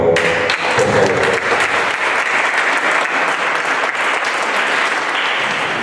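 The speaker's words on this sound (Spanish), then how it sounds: "este primer aplauso, esta primera solicitud es para ustedes por estar aquí" A large conference audience applauds loudly and continuously, dense clapping sustained for several seconds.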